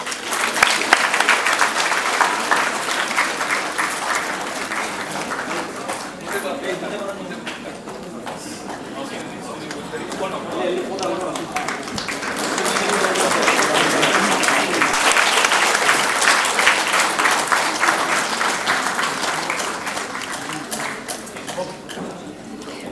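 Audience applause for a student at a school merit award ceremony, dense clapping that runs continuously, dipping slightly in the middle before swelling again, with some voices mixed in.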